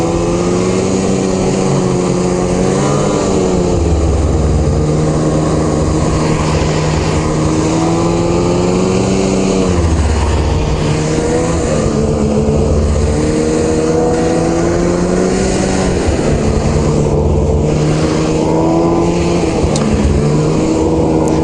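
A 2021 Arctic Cat Riot X snowmobile engine drones loud and close on a trail ride, its pitch rising and falling in repeated swells as the throttle is opened and eased, with no talk over it.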